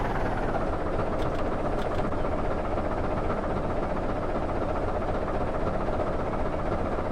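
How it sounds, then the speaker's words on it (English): A train rolls past in the My Winter Car driving game, a steady loud rumble with rail clatter that holds unbroken from start to finish. "Train's coming."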